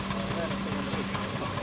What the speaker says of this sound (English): This is a 3-inch scale barrel engine now coming in,